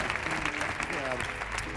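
Audience applause for a flamenco singer on a Spanish TV show, steady dense clapping throughout the short stretch with voices mixed in.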